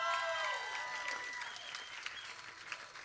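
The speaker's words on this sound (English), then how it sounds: "another round of applause for these ladies up here." Audience applause at a live Monday-night songwriter showcase, a steady wash of clapping that opens loud and close, then eases slightly while staying dense for the whole stretch, with a few scattered cheers mixed in.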